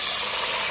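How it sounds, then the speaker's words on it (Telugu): Curry leaves hit hot cooking oil in a pan, giving a loud, dense, steady sizzle and hiss that fills the whole short moment. "సరిపడా ఆయిల్ పోసుకొని అది గరమైన తర్వాత కరివేపాకు"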